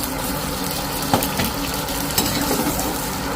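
Onions frying in oil in a pan, a loud continuous hiss and crackle with a couple of sharp scraping clanks, close and steady for a few seconds.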